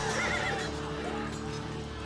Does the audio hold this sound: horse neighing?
yes